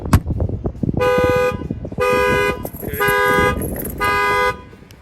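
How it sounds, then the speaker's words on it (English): Factory alarm on a 2021 GMC 2500 HD pickup, set off by an added shock sensor when the window is banged, sounds four loud, steady horn honks of about half a second each, spaced evenly in a close, repeating pattern. "I'm going to go ahead and bang on the window now after installing the shock sensor."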